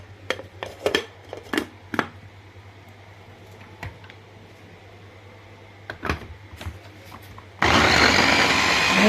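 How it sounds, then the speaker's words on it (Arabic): A kitchen blender blending guava and avocado juice: a few sharp knocks and clicks of handling the jar, then the motor switches on with a loud, steady, high-pitched whirring roar. "نضرب العصير بتاعنا في الكبة"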